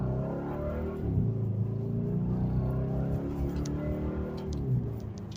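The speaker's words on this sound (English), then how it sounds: "I'm gonna just give it a light throttle, and maybe you can hear what this sounds like" Jeep WK1 SRT8 Hemi V8 exhaust with the mid muffler deleted, idling with a deep, steady rumble and gentle light-throttle swells, recorded close with faint ticking on top.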